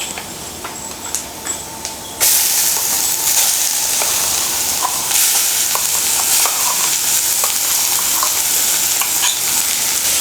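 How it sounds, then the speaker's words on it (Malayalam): Ground beetroot paste hits hot oil in a pan for Kerala-style beetroot pachadi, and a loud, sudden sizzle bursts in after a quieter start, then continues with scraping stirs and crackles, no talking. "ഇനി ഇതിലേക്ക് നമുക്ക് ബീട്രൂട്ട് അരച്ച് വെച്ചത് ചേർത്ത് കൊടുക്കാം"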